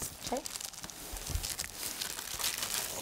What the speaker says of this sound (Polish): O, i zdejmij folię.